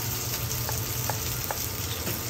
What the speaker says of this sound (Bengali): ধুয়ে রাখা গাঠি কচুগুলোকে দিয়ে ভালো করে নেড়ে চেড়ে মশলার সঙ্গে মিশিয়ে নিতে হবে